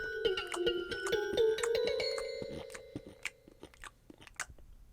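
Someone bites into fruit and chews, with crisp crunches in quick succession close to the ear, set over a sustained musical tone that fades as the chewing continues.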